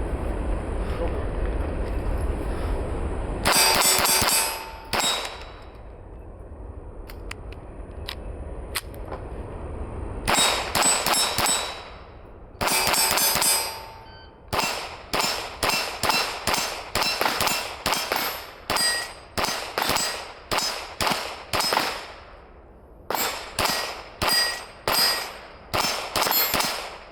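A CP33 pistol fitted with a +17 magazine extension fires a sharp, loud opening shot, a few spaced shots, then rapid strings of closely spaced metallic cracks that ring briefly in an outdoor range.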